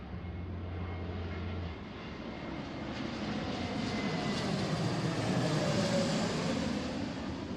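A Frontier Airlines Airbus A321neo landing at Seattle airport, heard as a broad, steady jet roar that swells gradually and holds at a moderate distance, with no talk.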